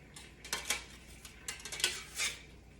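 Garlic scraped into a pan with a utensil, a few short quiet metallic scrapes and clinks spread over a couple of seconds, close up with no voices.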